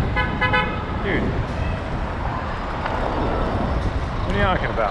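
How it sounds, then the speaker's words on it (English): Car horn honking in city traffic at a red light, heard over busy street noise and wind with several short toots near and far, while people talk nearby. "This guy honking."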